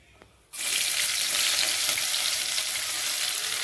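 After a brief quiet moment, onions, cardamom, cloves and bay leaf hit hot oil for a vegetable biryani and burst into a loud, steady frying hiss that holds to the end.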